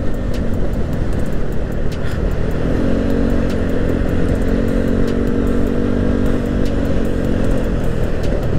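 A Yamaha Aerox scooter bored up to 200cc with an aftermarket exhaust holds a steady, loud engine drone throughout, with a sustained rising tone midway as it revs on the road.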